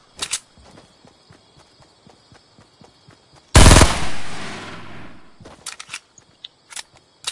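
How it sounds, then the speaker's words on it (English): Rapid bursts of gunfire from a Fortnite match crackle in quick repeated shots, broken by one loud blast around the middle whose roar tails off over a second or two before more scattered shots. "Eric, I'm getting shot at."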